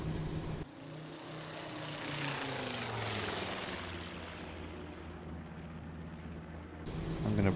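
Steady drone of a Ki-84 Frank fighter's propeller engine in the IL-2 1946 flight sim, droning loud and continuous throughout with a slowly shifting pitch, no voices.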